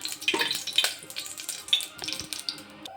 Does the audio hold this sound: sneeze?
no